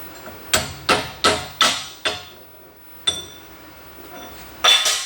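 Slag being knocked off a freshly plasma-cut strip of 16 mm thick, 150 mm wide steel plate: a series of sharp metallic strikes, five in quick succession, then a pause and two more, close and clear with no talk.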